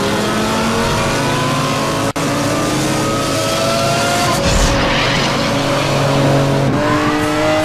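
A Lamborghini Countach races in the video game Need for Speed Hot Pursuit, its engine droning and shifting pitch steadily with tire squeals and skidding as the car drifts.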